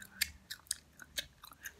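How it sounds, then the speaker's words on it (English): Gum chewed close to the mic: soft, moist clicking smacks in an irregular rhythm of about five or six bites in under two seconds, quiet and alone with no talk. "sorry, I'm chewing gum."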